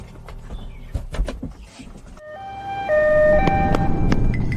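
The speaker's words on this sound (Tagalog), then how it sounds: "yun na yata ang ambulansya na naghahatid sa nanay ko sa ospital" An ambulance siren rises out of scattered clatter and background noise, its wailing tones stepping up and down and holding loud and close through the second half while the vehicle carries a patient to hospital.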